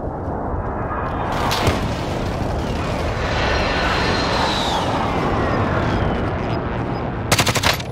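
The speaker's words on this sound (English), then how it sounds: "Precision airstrike, take cover!" Precision airstrike explosions rumble through a video game battle as a dense, continuous roar of blasts, with sharper crackling bursts of gunfire near the start and end.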